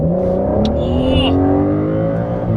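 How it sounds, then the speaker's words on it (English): Aston Martin DBS Ultimate 770 with its 770-horsepower V12 biturbo at full throttle, heard from inside the car: a loud, continuous engine roar climbs in pitch as it revs up, with a short burst of higher whine partway through. "The V12 sounds so good."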